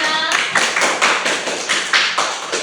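Students clapping in a classroom for a group after a math presentation, a short burst of steady, fairly loud hand claps over about three seconds.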